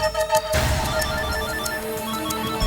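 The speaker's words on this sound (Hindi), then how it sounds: "फोन उठा।" Telephone ringing in a Hindi CID detective drama scene, a repeating electronic ringtone with clear tonal pulses continuing throughout, no talk over it.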